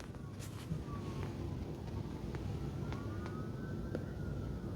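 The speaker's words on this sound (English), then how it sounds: "There's a police siren going on." A distant siren wails faintly, its pitch sliding up and down, beneath steady low traffic rumble and a few sharp clicks.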